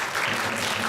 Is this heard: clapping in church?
yes